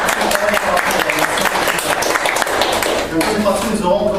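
Audience applause at a ufology dinner gathering in Metz, loud and close, a crowd clapping in a dense burst with a few individual sharp claps standing out and a faint murmur underneath.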